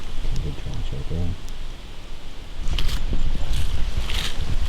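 Wind blowing outdoors during an archery whitetail deer hunt in Pennsylvania: steady, loud broadband rushing and buffeting across the mic, with low voices talking underneath.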